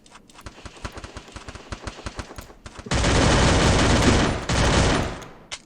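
Rapid bursts of synthetic gunfire rattle in quick repeated shots, then erupt into a loud, dense sustained barrage before cutting off.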